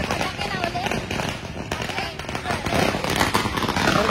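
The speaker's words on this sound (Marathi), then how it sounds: "हे बघा, फटाके पण लावल्या" Firecrackers go off at the grand opening of a banquet hall in Navi Mumbai, a dense, continuous crackle of rapid pops that stays steady throughout at moderate distance, with crowd noise blended in.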